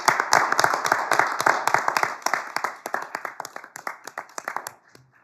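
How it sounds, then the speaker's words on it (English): Hands clap loudly at a council meeting, a burst of sharp, distinct claps from a modest group that slowly thins out and stops just before the end. "if we can just give Gordon a round of applause."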